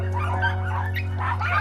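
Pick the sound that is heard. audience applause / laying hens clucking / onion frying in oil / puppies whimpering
puppies whimpering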